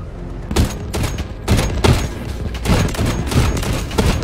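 Heavy bursts of gunfire from the video game Delta Force Hawk Ops, loud close shots in uneven rapid clusters with booming low impacts, no talking.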